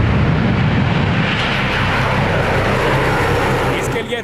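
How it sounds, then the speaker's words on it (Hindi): Tu-160 bomber aircraft flying on simulated air strikes over a Russian exercise, a loud continuous roaring engine rumble that holds steady for several seconds and dips slightly at the end. "Tu-160 बम वर्षक नकली दुश्मन के ठिकानों पर हवाई हमले करते हैं।"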